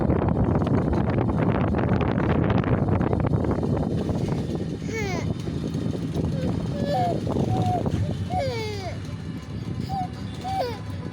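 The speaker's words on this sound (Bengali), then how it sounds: "ঠান্ডা আবহাওয়া, বৃষ্টি বৃষ্টি ভাব, বাতাস উঠছে, বাতাসও লাগতেছে অনেক।" Wind gusting outdoors on a cool, rainy-feeling day in rural Bangladesh, a steady broadband buffeting on the microphone that is strongest early and eases a little, with voices and children's chatter heard over it.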